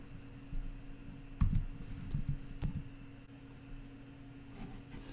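A license key being typed on a computer keyboard: a few quick bursts of soft key clicks, close and quiet, with no voice.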